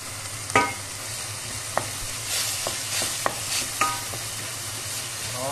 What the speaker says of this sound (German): Die Zwiebeln ohne Farbe angehen lassen